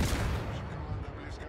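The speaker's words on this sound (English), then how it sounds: "I guess I'll head in the Lexington's direction while shooting at the battleships." Naval artillery from a destroyer, the Udaloi, firing at battleships including a Yamato in the video game World of Warships: dense, rumbling booms that blur into a steady roar, loudest at the start, with no clear breaks.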